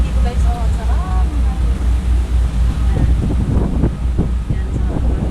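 Strong wind buffets the microphone on a road trip near the sea in Northern Samar, a constant low roar with pulsing gusts, and someone talks over it.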